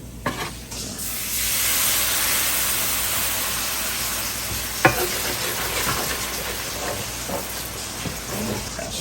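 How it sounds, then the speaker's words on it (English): Flour gravy stirred and scraped in a frying pan for breakfast, a loud continuous sizzle with the utensil scraping the pan bottom, one sharp knock midway, close and without talk. "Scrape the bottom of the pan here. Get all the good crusties and flavor."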